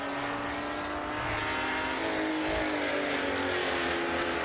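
Porsche touring race cars racing at Barbagallo Raceway, a steady loud engine drone that holds throughout with slight shifts in pitch and no pause, with no voice over it.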